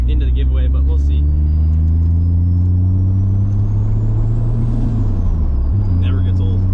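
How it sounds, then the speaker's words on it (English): A turbocharged Toyota Supra project car cruises with a loud, steady engine drone and a rising then falling turbo whistle, the pitch dipping and recovering as it shifts, heard from inside the car. "you can just cruise it around all day and just listen to the turbo"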